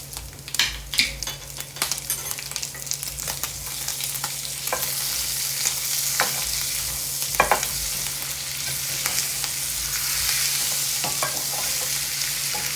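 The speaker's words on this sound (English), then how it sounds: "I just threw in some butter" Butter sizzling and frying steadily in a cast iron skillet, with a close, continuous crackle and occasional scrapes and clinks of a utensil stirring against the pan.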